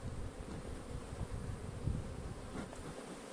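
A dense, steady buzz of many honeybees swarming close by at an open hive, continuous and loud throughout with no voices.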